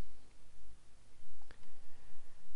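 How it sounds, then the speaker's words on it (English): Single mouse click during a Skype software install on a computer, one sharp tick in the middle over quiet room noise. "So now I'm going to click here on Skype Setup, and I'll click OK for that"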